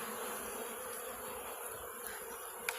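Honey bees buzz steadily at a hive while being fed ahead of winter, a dense, even drone heard close with a faint tick near the end.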